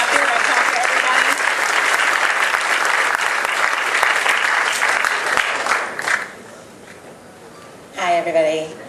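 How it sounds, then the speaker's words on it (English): An audience at a growers' association meeting applauds the speakers with loud, dense clapping that tapers off, followed by a pause and then a voice speaking. "So please give them a round of applause."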